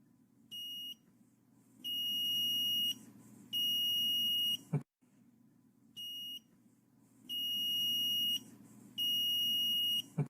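An Arduino buzzer, triggered by an ultrasonic distance sensor, gives faint, high electronic beeps in short and longer bursts over a low hum, with gaps of quiet between groups.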